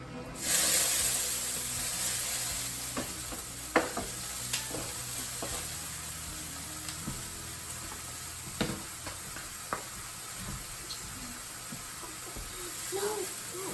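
Broccoli fries in olive oil and leftover chicken juices, with a loud sizzle and hiss at the start that settles into a steady crackle, marked by occasional clinks and scrapes of a utensil in the pan.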